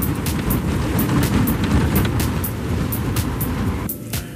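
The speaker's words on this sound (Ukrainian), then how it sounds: "що ви чуєте, це шум гуми на асфальті і аеродинамічні шуми" Continuous road roar of tires on asphalt from inside a quiet Mitsubishi i-MiEV electric car, with wind rush and regular faint ticks, briefly dipping near the end.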